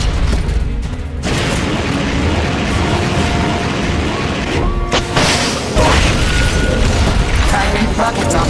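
Rocket launcher blasts in Metal Gear Solid Peace Walker, loud booming and crashing bursts that fill the whole clip, with a sharp cut near the one-second mark and another heavy hit around five seconds, over a dense battle din.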